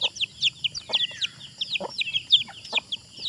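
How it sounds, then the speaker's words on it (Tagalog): Chickens being fed cluck and chirp rapidly close by, a dense, busy flock chatter of short calls throughout. "nagpapakain po tayo ngayon ng mga manok ni Lula"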